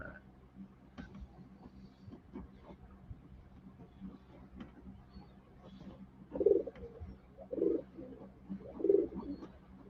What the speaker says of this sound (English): You guys can hear the pigeons.